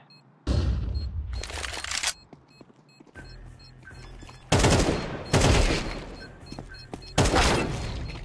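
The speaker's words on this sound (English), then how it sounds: "Throwing flashbang." A flashbang grenade goes off in Counter-Strike 2, set among several loud, sharp broadband bursts of gunfire and blasts that each ring out for a second or so, separated by quieter game ambience.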